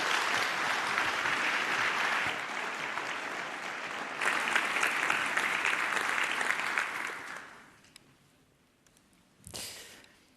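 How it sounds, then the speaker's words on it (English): Warm applause from a conference audience, dense steady clapping for about seven seconds before it fades away, with a brief final burst of clapping near the end. "Please give a very warm applause to Senana."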